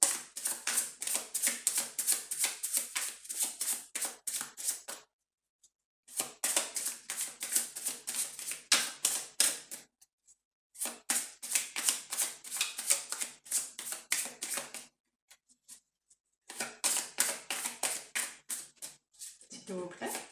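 Tarot cards being shuffled by hand in repeated bursts of dense, rapid riffling and flicking, each burst lasting a few seconds and separated by short pauses, close and fairly loud with no talking.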